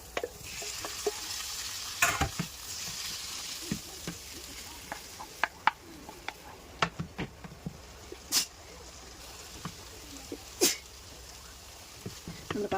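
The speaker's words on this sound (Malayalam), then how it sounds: "നമ്മൾ പാസ്ത ഒരു 5 മിനിറ്റ്സ് ഇളക്കി കൊടുത്തിട്ടുണ്ട്." Pasta being stirred in a hot pan with masala, giving a low sizzle broken by scattered scraping clicks and sharp utensil knocks against the pan, fairly quiet and close, with no talking.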